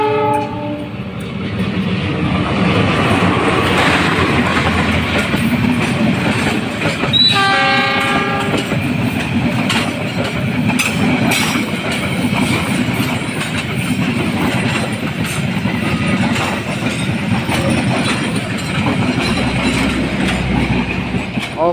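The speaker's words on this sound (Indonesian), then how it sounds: "sedang melintas di JPL 16 Sudirman menggunakan lokomotif CC 20613" Indonesian KA Papandayan passenger train hauled by locomotive CC 20613 passing level crossing JPL 16 Sudirman near Kiara Koneng, loud sustained rumble and wheel clatter close by with a brief horn blast early on.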